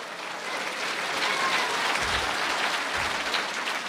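Congregation applause at a religious gathering, a steady wash of clapping from many people that swells slightly and holds at moderate loudness.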